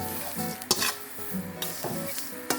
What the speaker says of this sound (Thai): เราจะคั่วแบบว่า ให้มันแบบว่าหอมเปลือกไข่เลยนะคะ